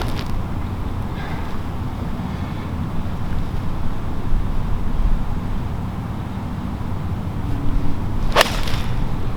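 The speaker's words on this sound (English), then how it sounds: "So, gonna probably hit a 9-iron here." A golf club swings through a 9-iron shot outdoors on a course with a headwind, giving one sharp, brief whoosh and strike near the end over constant wind noise.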